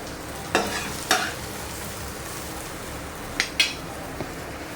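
Misal masala ingredients are stir-fried in a pan, with a low steady sizzle broken by a handful of sharp spatula scrapes and clinks against the metal, two early and two later, with no talking.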